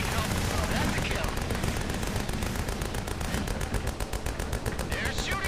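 Heavy, continuous gunfire from the VR combat game Grit and Valor 1949, with rapid machine-gun bursts packed densely together and staying loud throughout with no letup.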